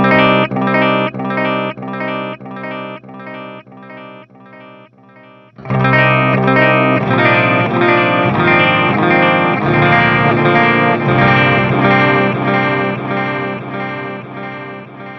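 Electric guitar played through a Boss DD-500 with its EQ boosting the low mids at 200 Hz, first a string of rhythmic strummed chords, then a thick, sustained distorted passage with repeating echoes, loud and close with no talking.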